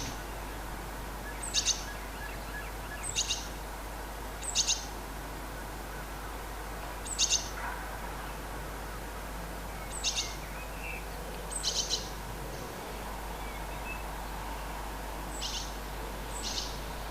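Short bright bursts of birdsong repeat every second or so, a great tit calling loudly and a blackbird mimicking a police siren at evening, with a steady low town hum underneath.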